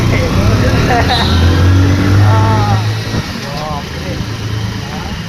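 A road vehicle's engine hums steadily while riding, a low, constant drone running beneath close, lively talk from the riders.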